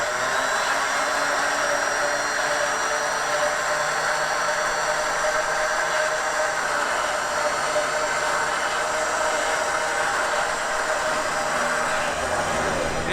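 An electric winch spools in its line during an off-road vehicle recovery, giving a steady continuous motor whine and hum that holds alone at an even level for the whole stretch.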